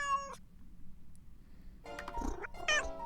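A cat in the Nancy Drew game Secret of the Old Clock gives a short meow, then after a quiet pause a pair of louder, drawn-out meows with a faint purr beneath, close and clear.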